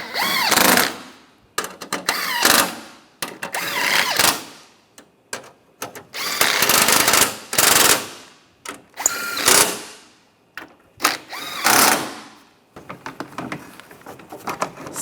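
A power tool tightens the upper radiator screws on a 2010-2016 Cadillac SRX during a radiator replacement, in a series of short, loud, rattling whirring bursts with brief pauses between them, close by.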